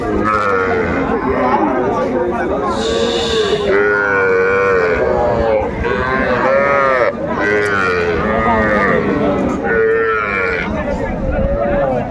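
Cattle at a Tangail livestock market low repeatedly in long, loud moos, several overlapping, while people chatter nearby.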